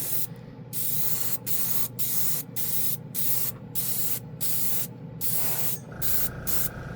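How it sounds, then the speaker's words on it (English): A no-clean airbrush sprays 2K paint onto a car in short repeated bursts of close hiss, about a dozen pulses with brief silent gaps between them. "I just wanted to see if this airbrush can spray 2K."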